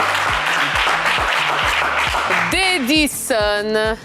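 A game-show studio audience applauds a guest with steady, dense clapping over a low rhythmic pulse, and voices rise over it in the final second and a half.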